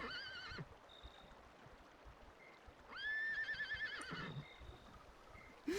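A horse in the video game Dragon Quest 8 whinnies in two bright, rising neighs, with a brief squeal between them, over a faint watery background.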